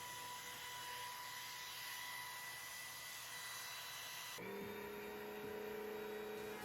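A trim router fitted with a 1/8 inch roundover bit eases the top edge of a round wooden cutting board, giving a steady high-pitched whine whose tone drops and shifts partway through as the cut continues.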